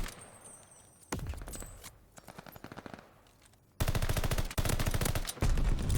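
Spud gun firing in the Call of Duty Vanguard video game during ranked multiplayer: loud rapid bursts of gunfire in several separate volleys, the later ones heavier and more sustained, with no talking.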